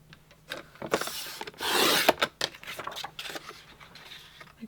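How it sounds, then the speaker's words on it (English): Guillotine paper trimmer slicing through paper, a rough scraping swish of the blade in the middle among lighter handling taps and rustles of paper, close and fairly quiet with no talking. "I do love the sound that the guillotine trimmer makes"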